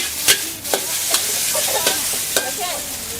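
Hand-minced pork sizzles in lard as chili and garlic go in at a Bangkok street food stall, with steady frying hiss and several sharp scraping strokes of a spatula against the pan.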